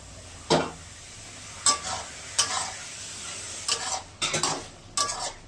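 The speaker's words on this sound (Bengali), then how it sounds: "এবার এটা কষাবো। বড়াগুলো দিয়ে দিলাম," A metal spatula scrapes and stirs moong dal fritters with ridge gourd in a poppy seed paste in a pan. Several separate scraping strokes come one after another against a soft, continuous sizzle.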